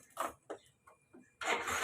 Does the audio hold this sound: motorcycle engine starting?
yes